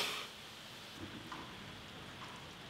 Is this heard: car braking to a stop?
no